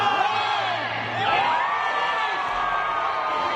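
A large outdoor crowd cheers and whoops at the Rockefeller Center Christmas tree lighting in New York, a dense, sustained roar of many voices with shrill calls rising above it.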